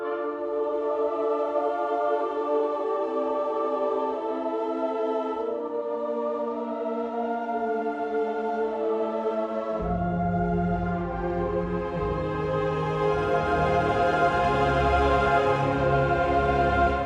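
A full orchestra and choir swell together in a sustained, grand passage, growing fuller and louder as low brass and strings enter midway.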